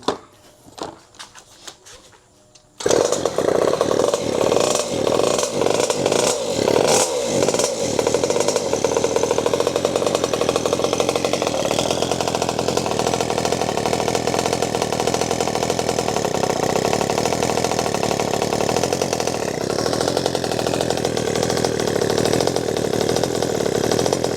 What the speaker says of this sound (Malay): dia dah senang start dah tapi dia masih bubuk bubuk bubuk bubuk